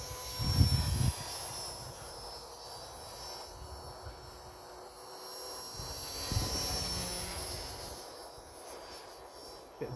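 An Align T-Rex 450 RC helicopter flies outdoors in fairly strong wind, its steady high-pitched rotor and motor whine running throughout, with low wind buffeting gusts rising and falling beneath it.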